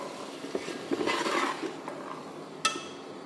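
Peas, potatoes and rice stirred in a pot for matar aloo pulao: soft scraping and rustling of a spoon through the ingredients, with a sharp clink against the pot near the end, quiet and close.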